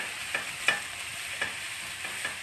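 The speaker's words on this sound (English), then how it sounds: "stir the mushrooms again" Mushrooms fry in a pan for a green bean casserole while being stirred, a close bright sizzle with four rhythmic scraping strokes of the utensil.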